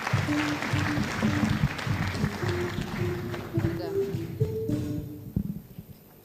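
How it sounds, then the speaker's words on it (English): An audience at a World Children's Day celebration in Nairobi applauds for a cabinet secretary, with rapid clapping mixed under music and voices before thinning out near the end. "Please give her a round of applause."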